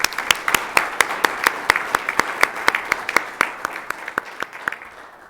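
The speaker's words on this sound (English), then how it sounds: "Let's give him one more round of applause" Applause at a Board of Education meeting, discrete hand claps ringing out in a steady, moderately sparse rhythm for over five seconds before tapering off at the end, fairly close and clear with no talking.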